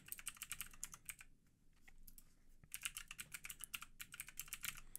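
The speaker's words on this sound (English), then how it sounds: "we're going to type in the IP address of our server here." Brisk typing of an IP address on a computer keyboard, two quick bursts of close, crisp key clicks separated by a short pause, with no talking.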